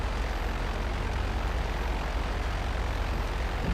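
A jet aircraft engine in the video game GTA Online roars as a steady, broad, unbroken wash of loud engine noise, with no talking over it.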